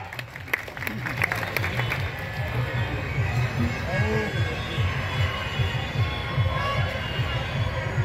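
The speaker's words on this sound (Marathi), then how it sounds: "सर्वांनी टाळ्या करा" Steady crowd applause and clapping at a rural wrestling match in a kusti akhada in Pune, continuous and fairly loud, with background chatter and crowd noise throughout.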